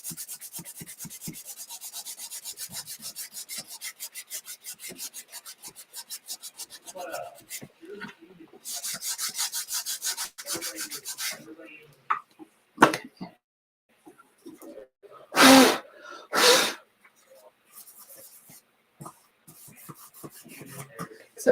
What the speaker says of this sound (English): I'm gonna give him just a little bit of a rub down with my finger sander.